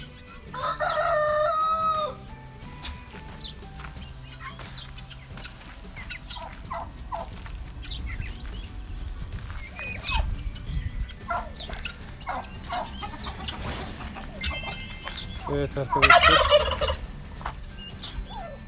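Turkeys gobble in repeated bursts, with one loud, close gobble near the start and another late on, over a steady farmyard background and a brief spoken phrase.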